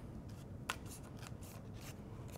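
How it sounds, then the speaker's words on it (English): Dull scissors trimming the edge of a shapeable paper leaf, a few soft close snips and rustles at an uneven pace over a faint background. "My scissors aren't very sharp, so just trim that down a little"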